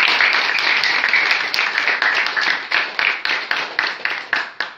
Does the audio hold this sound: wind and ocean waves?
no